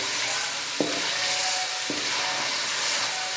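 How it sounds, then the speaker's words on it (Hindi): Tomatoes fry in a hot pan with a constant close sizzle and hiss, broken by two brief stirring scrapes. "टमाटर को इस वक्त तक भूनेंगे जब तक ये सॉफ्ट ना हो जाए"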